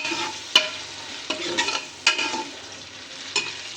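Sliced onions fry in a pot for aloo chicken, a steady soft sizzle broken by a few sharp clinks and scrapes of a spoon stirring, heard up close and alone without talking.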